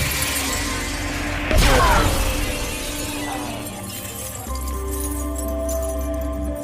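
A rifle telescope is struck by a bullet in a film scene, giving a sudden loud cracking shatter over a steady rumbling soundtrack, followed by tinkling debris and a low droning score.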